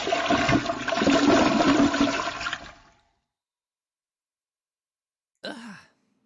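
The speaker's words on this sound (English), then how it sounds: "God damn that toilet flush." A toilet flushes with a loud rushing gush of water that lasts nearly three seconds and stops, followed after a pause by a short sigh-like vocal sound.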